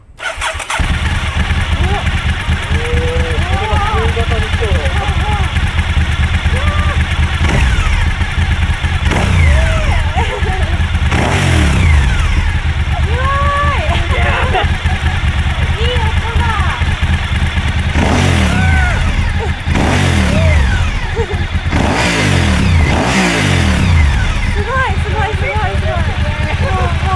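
A Honda VTR1000 SP2 V-twin motorcycle starts up close by and settles into a deep, loud idle, with repeated sharp throttle blips and revs rising and falling throughout, while people talk over the engine.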